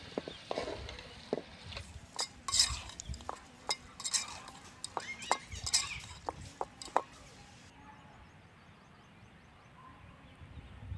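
Ladle stirring and scraping country chicken pieces in a pot for Tamil-style chicken curry, a series of sharp metallic clinks and scrapes at irregular intervals, close and clear, then quieter sizzling toward the end.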